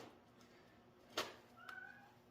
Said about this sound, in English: Shut up, you goddamn cats.